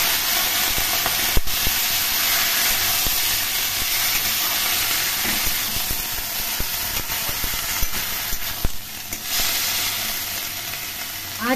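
Vegetables sizzling in a hot pan with small fish for a Bengali chochori, a steady loud hissing fry with occasional crackles and pops, no talking.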